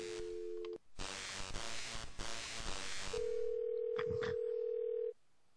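A telephone in the video game Thimbleweed Park gives a short tone, goes through a burst of noisy game sound, then a steady dial tone that holds for about two seconds before cutting off, no speech.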